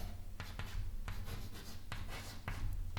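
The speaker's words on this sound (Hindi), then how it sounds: "पहले यहाँ सूत्र लिखते हैं आईक्यू का" Pen scratching across paper while a formula is written out by hand, a steady run of short scraping strokes with small pauses, fairly close and with no voice over it.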